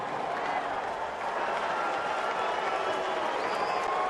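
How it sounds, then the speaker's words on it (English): At a Cardinals–Cubs baseball game, a dense stadium crowd roars in a sustained wash of cheers and boos as Albert Pujols steps up to bat, loud and continuous with a broad murmur of voices. "So you've got Cardinal fans cheering, and there are Cardinal fans here. You've got Cub fans booing"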